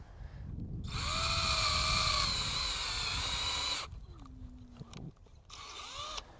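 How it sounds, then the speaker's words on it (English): A cordless drill whirs steadily for about three seconds as it bores a 5/16-inch hole about 2 inches into a maple tree, then winds down; a shorter burst of drilling follows. "we are going to drill a 5/16 diameter hole about 2 inches into the tree"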